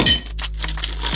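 Ice cubes clatter out of an Icebreaker Nordic ice tray after a shake, giving a few close, bright glassy clinks and knocks against a low steady hum, with no talking.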